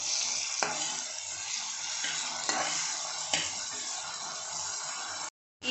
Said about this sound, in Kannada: ಈರುಳ್ಳಿ ಹುರಿತಾ ಇದ್ದಂಗೆ ನಾನು ಇದಕ್ಕೆ ಜಿಂಜರ್ ಗಾರ್ಲಿಕ್ ಪೇಸ್ಟ್ ಹಾಕ್ತಾಯಿದ್ದೀನಿ